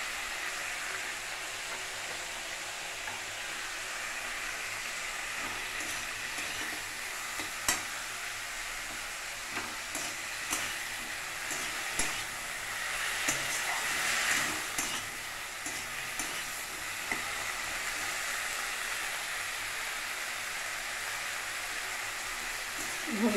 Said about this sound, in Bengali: এভাবে একটু হালকা ভাজা করে নিতে হবে টমেটোটা